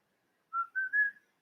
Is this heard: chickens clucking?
no